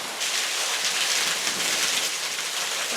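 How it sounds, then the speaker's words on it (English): Heavy rain driven sideways by wind during a storm under a tornado watch, a dense continuous hiss of downpour at steady loud level with no talk. "That's a lot of rain."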